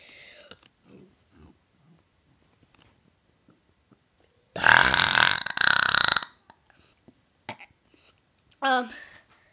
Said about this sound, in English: And my girly burp is really funny.